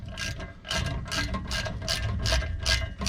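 A Wolfe Ridge Express Wrapper is cranked down by hand, giving a rhythmic series of about seven ratcheting, rasping clicks in quick even bursts, close and loud with no talk.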